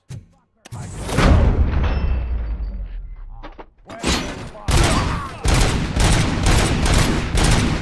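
Loud gunfire in the video game RoboCop: Rogue City, opening with a heavy boom and continuing as rapid bursts of automatic shots with a short pause between volleys.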